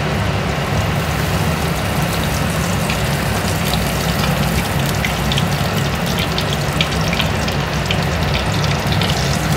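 Nigella seeds sizzle in hot oil in a wok, giving a steady, loud, dense frying hiss that runs unbroken throughout.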